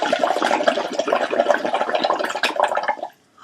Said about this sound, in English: I put the straw in the water in the bowl